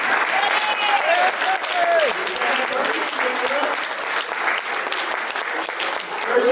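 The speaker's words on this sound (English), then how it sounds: "give a nice hand applaud" Audience applause for Mr. Percy fills the room, a dense steady wash of many hands with whistle-like tones and voices mixed in throughout.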